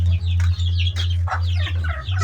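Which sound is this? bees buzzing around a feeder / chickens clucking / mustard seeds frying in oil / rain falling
chickens clucking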